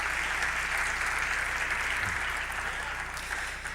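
Sustained audience applause fills a fall sports awards ceremony, a dense, even roar of clapping from a large crowd heard at a distance throughout.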